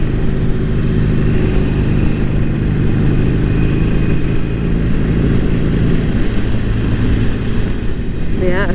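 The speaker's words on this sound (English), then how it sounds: "That wind though." Wind rushing past a rider on a moving motorcycle, a loud, constant low roar and buffeting that fills the whole stretch, with engine noise blended underneath.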